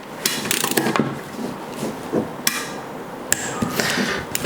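Torque wrench being tightened on a bicycle freehub body during an XDR conversion: a few sharp metallic clicks and knocks spaced irregularly, close and moderately loud, with scraping handling noise between them.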